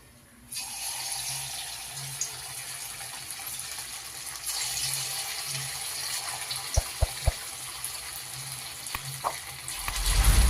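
Sabudana and potato bhaji fritters frying in hot oil for a fasting snack, a steady close sizzle with a few sharp clinks and taps from a utensil partway through.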